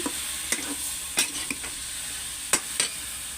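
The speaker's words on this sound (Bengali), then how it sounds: "দিয়ে একটু ভালো চেক করে নেড়ে চেড়ে দিচ্ছি" Vegetables, pointed gourd and taro roots, sizzle gently in a pan while a utensil stirs them in a few sharp scrapes and clinks, close and fairly quiet.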